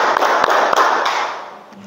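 Hand claps in a counted clapping exercise, a few sharp claps over a broad, noisy wash that fades toward the end.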